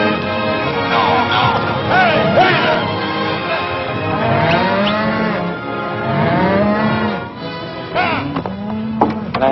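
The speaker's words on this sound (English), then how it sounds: "There's your cattle." Cattle moo repeatedly in a herd, several long lowing calls overlapping at close to middle distance, loud and continuous with faint voices and movement beneath.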